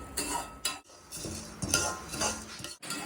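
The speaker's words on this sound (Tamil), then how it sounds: "உளுத்தம்பருப்பு நல்லா செவக்க வறுக்கணும்" Urad dal roasting in a kadai while being stirred, with a metal spoon scraping and clinking against the pan in uneven bursts and short pauses, fairly quiet and close, with no talking.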